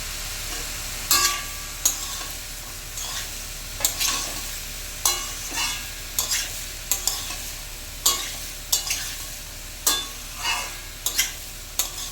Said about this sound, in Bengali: ভালোভাবে একটু নাড়াচাড়া দিয়ে নেড়ে নেবো, একটু হালকা হালকা করে লাল করে একটু ভাজবো আমি।